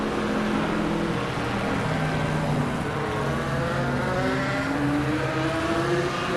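A number 53 Porsche GT4 race car laps the Zandvoort circuit, its engine a loud, steady drone that climbs in pitch through the gears, close and continuous throughout.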